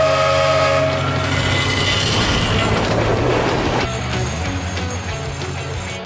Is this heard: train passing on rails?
yes